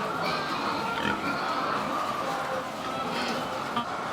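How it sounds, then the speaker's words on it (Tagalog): Low, continuous grunting from a group of pigs, fairly faint, with snuffling sounds and a muffled voice in the background. "itong mga baboy na to, oh."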